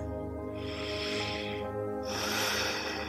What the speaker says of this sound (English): Begin to take a few easy breaths